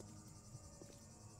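Cicadas chirping in the background of a survival video game at noon, a faint, steady buzzing drone of insects with no other sounds over it.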